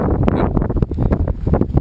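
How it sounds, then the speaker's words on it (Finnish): Gusty wind buffets the microphone in a constant low roar at a tandem skydive site, with irregular surges and rustling, loud and close. "meillä on kohtalaisen kova tuuli täällä"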